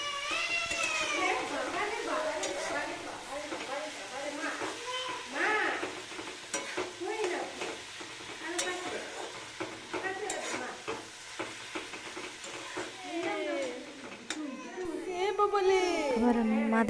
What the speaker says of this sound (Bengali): বাঁধাকপি ভাজা হয়ে গেছে প্রায়।